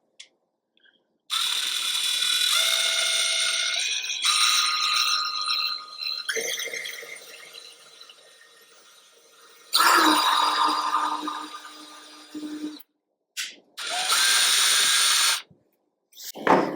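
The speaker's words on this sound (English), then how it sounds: "flip our fan over and drill a hole. This is just going to be a pilot hole for the screw" Small power drill boring a pilot hole for a screw through a turkey fan at the edge, a steady whirring motor in several bursts of varying pitch separated by short pauses, close and fairly loud.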